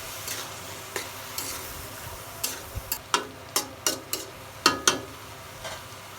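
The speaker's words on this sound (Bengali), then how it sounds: "এবার আমি সবজিগুলো ঢেলে দেব" Beans, potatoes and onion stalks fry in a pan under a soft continuous sizzle, while a spatula stirs and scrapes with a run of sharp clinking strokes that quicken toward the end.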